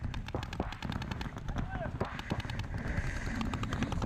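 Paintball markers fire in a rapid, continuous stream of sharp pops during an NXL tournament-style practice game, with distant shots mixed in and a voice talking over them.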